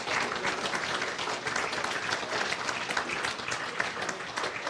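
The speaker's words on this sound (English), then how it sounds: "And give them, please, an applause," Applause from the audience at an Othello prize ceremony in Belgium, loud and sustained clapping from a sizable crowd with no voices on top.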